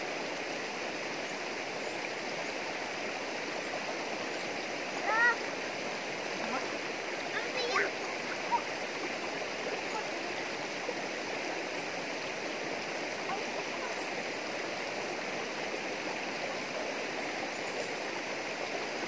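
Steady rushing of a flowing creek, a continuous broadband wash with a couple of brief splashes partway through.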